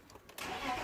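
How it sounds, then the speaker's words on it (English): A BMW 323i with its airflow meter unplugged cranks and fires up, the engine catching abruptly after a quiet moment and settling into a steady, fairly faint running sound. "If I unplug the airflow meter, it starts straight away."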